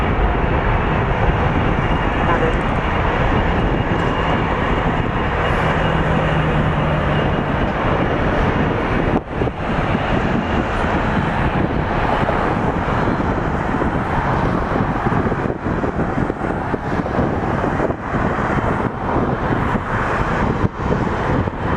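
Air Canada Boeing 787-9 Dreamliner heavy jet at Toronto Pearson airport, a loud, steady broadband jet roar with wind buffeting on the microphone, sustained throughout without a break.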